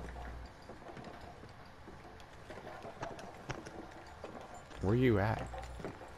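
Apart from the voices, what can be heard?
horse hooves in a video game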